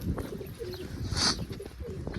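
Pigeons coo softly over a dense background murmur, with one brighter chirping call standing out briefly in the middle.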